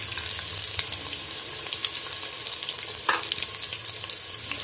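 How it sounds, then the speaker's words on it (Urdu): Chopped onions sizzle and fry steadily in a few spoonfuls of hot oil in a pot, a dense, even crackle with faint clinks, heard up close with no talking. "اب ہم اس میں سب سے پہلے ڈالیں گے پیاز."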